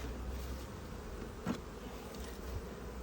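Honeybees hum around a nucleus hive just after wintering, a steady, fairly quiet buzz that holds through the whole stretch with one brief closer pass in the middle.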